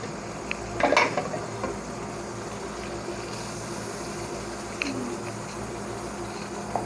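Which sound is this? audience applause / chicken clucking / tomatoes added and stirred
tomatoes added and stirred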